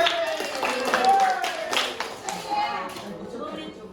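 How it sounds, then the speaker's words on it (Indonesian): A school class claps for classmates, scattered uneven hand claps of moderate loudness that thin out over a few seconds, with children's and a teacher's voices talking over them. "Nah, ya, tepuk tangan dulu buat teman-teman kita."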